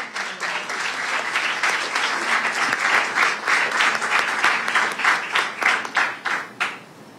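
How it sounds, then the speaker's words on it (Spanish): Strong audience applause at a school Spanish Language Day celebration, crowded clapping that swells and then thins into a few rhythmic, distinct claps before fading out at the end. "Démosle paso y un fuerte aplauso a la licenciada Elizabeth."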